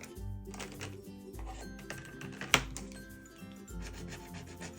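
Lottery scratch cards are rubbed off in short, close scratching bursts, each a few strokes long with small pauses between, and one sharp tap partway through, all faint and quiet.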